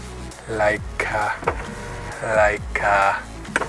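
A power sunroof on a Toyota Vanguard whirring as its motor runs in several short bursts, each starting and stopping close by inside the car, with someone speaking between them.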